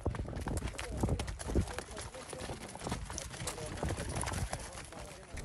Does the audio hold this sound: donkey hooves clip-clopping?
yes